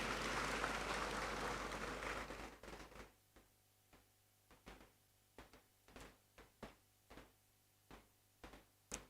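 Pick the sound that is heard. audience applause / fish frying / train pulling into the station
audience applause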